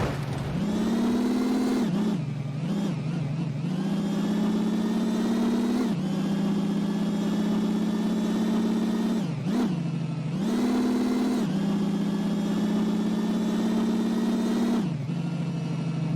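Simulated car engine in a city driving video game drones at a steady mid pitch, with the revs dipping and climbing several times as the car slows and speeds up, loud and continuous with no voices over it.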